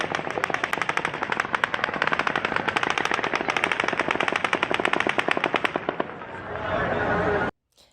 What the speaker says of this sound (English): the 10th volley of automatic gunfire begins